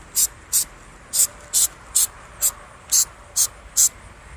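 Rubber flex sealant coating sprayed onto a convertible top, nine short, sharp hissing bursts in an even rhythm, close and clear with quiet gaps between them.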